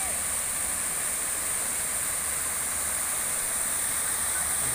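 Water flows and splashes at a crowded splash park, a steady broad rush of spray running throughout at moderate level, with faint voices in the background.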